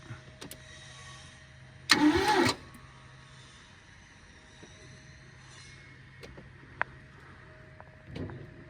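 A barn find vehicle, its fuel not yet through the line, cranks in a brief, loud burst of about half a second, then falls quiet with faint clicks until a second short crank near the end, never catching.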